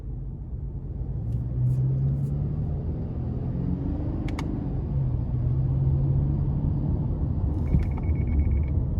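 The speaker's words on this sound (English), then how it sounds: "And that was the forward collision alert." A 2021 Subaru Impreza hatchback cruising with steady road rumble, and a brief series of high beeps from the forward collision alert chiming near the end, faint over the cabin noise.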